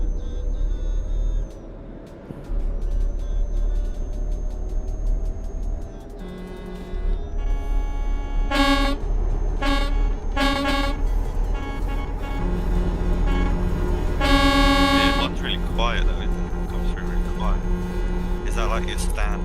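Traffic rumble in Euro Truck Simulator 2 with several loud truck horn blasts, short standard honks and longer sustained air-horn blares repeated over a steady engine drone.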